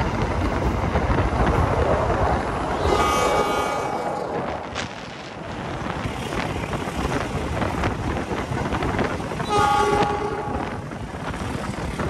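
Passenger train in motion on an Indonesian railway, heard from inside with a loud continuous rumble and rushing wind, brief tonal horn-like bursts rising twice over the clatter.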